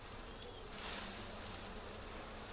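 A steady, dense buzzing of many honey bees in a hive fills the clip, close and continuous, swelling slightly in the middle.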